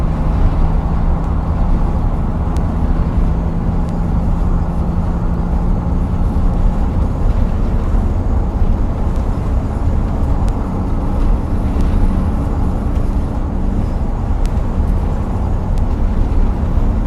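A 1962 GM 4106 coach bus engine drones and rumbles steadily with road noise, a continuous loud low roar with no voices.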